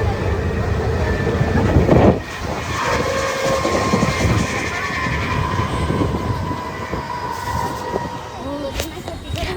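A loud, continuous rumble from inside a moving Mumbai local train, with a rattling, clattering carriage, a sharp jolt early on and tonal squeals, while people talk faintly in the background.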